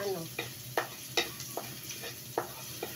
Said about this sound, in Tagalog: Gisa-gisa muna natin yung ating bawang